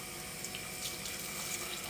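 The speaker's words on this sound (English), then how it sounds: "I'm going to add a little bit of hot water, just a little bit, not too much" Hot water pours steadily into a frying pan of frying gizzards, a continuous rushing, hissing wash of liquid with no pauses and no voices.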